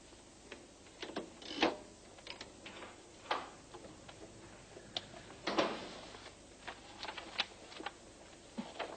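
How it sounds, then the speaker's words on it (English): Irregular mechanical clicks and clacks from typewriter typing, in bursts with pauses, with some louder strikes standing out against a quiet indoor background. "Typing going okay?"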